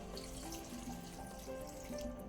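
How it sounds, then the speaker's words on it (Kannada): Water runs steadily into a cooker of vegetables for a couple of seconds, a continuous splashing stream with a faint tonal hum underneath. "ಈಗ ತರಕಾರಿ ಬೇಯಲಿಕ್ಕೆ ನೀರು ಹಾಕೋಣ"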